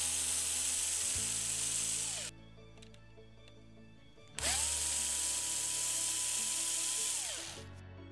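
Two bursts of a high-pitched power screwdriver whine while screws are backed out of a printer toner cartridge, each spinning up and winding down, with a short quiet gap of faint handling in between.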